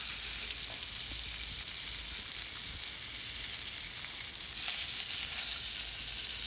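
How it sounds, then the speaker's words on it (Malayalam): Mackerel pieces frying in a pan for a mango fish curry, giving a steady, close sizzle and hiss that holds throughout, with a brief swell of crackle near the end. "ഇനിയിപ്പോൾ അത് കഴിഞ്ഞ് മീൻ വറക്കൽ 2 കഷ്ണമല്ലേ ഉള്ളൂ"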